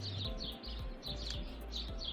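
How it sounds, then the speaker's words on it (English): Wild birds chirp outdoors around a residential neighborhood, with repeated short high calls scattered across the moment over a steady low rumble of background noise; no talking. "I am outside, so you can hear all the birds around my community."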